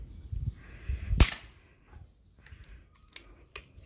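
A pellet from a Beeman P17 air pistol strikes the target with one sharp, loud crack near the start, followed by a few faint ticks and small knocks.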